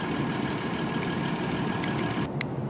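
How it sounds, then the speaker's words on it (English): A 2018 Ford F-150 with a 3.0L V6 diesel idles about twenty feet away, giving a steady, even low rumble with no change in pace and no talking. "From 20 feet away, this diesel's a lot quieter."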